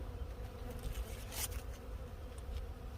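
A steady, close hum of Apis mellifera honey bees buzzing around hives knocked over in a winter storm, with a few louder passes as individual bees fly near.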